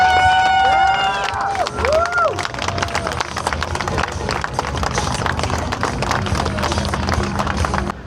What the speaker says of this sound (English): One more big round of applause, ladies and gentlemen.